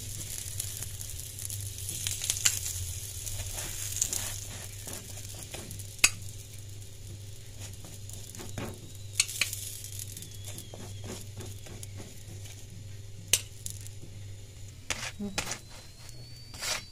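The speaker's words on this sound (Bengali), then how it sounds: "দেখুন এবার আমরা সাইড থেকে এখন দিয়ে তেলটা অ্যাড করছি।" Oil added around the edges of a sattu paratha in a pan sizzles softly, a low steady frying crackle with occasional clicks and light scraping.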